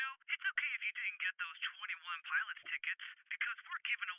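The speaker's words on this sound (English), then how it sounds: "it's going to sound like they are on the receiver end of a phone call" A voice run through a telephone filter effect in Adobe Audition speaks continuously, sounding thin, tinny and band-limited like the receiving end of a phone call.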